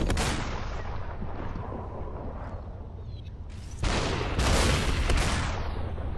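Gunfire from the video game SUPERHOT erupts in dense, continuous booming volleys, loud and close, with a sharp surge of heavier shots midway and no talk over it.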